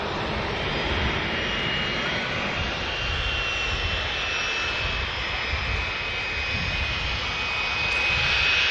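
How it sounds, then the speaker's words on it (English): Emirates Airbus A380 super jumbo on approach to land in the UK, a loud steady roar of jet engines filling the whole stretch, swelling slightly toward the end. "Emirates A380 now over the UK as well, the next super jumbo to land."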